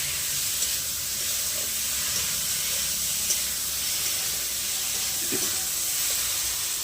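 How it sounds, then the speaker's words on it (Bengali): Masala for potol bhapa with onion and garlic sizzles while being sautéed and gently stirred, a continuous soft hiss close by with faint occasional stirring scrapes and no talking. "যখন মশলাটা এই পর্যায়ে কষানো হয়ে যাবে দিয়ে হালকা হাতে একটু নাড়াচাড়া করে"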